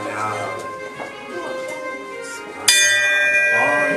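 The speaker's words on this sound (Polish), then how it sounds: "Nawet dzwon, nawet na cześć" People talk and mill about at a welcoming event during Noc z Andersenem in Wyrzeka, then a bell is struck once, loud and near, and keeps ringing under the voices.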